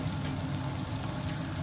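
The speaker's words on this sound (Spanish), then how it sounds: "Vamos a sofreírlo hasta que coja color." Prawn tail frying in a pan with paprika added, a steady, dense sizzle that holds level and close throughout the short stretch, with no voices.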